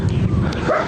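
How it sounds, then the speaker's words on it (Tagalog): A dog gives a single short bark, close and fairly loud, within less than a second. "Ito yung aso ni Lolo eh."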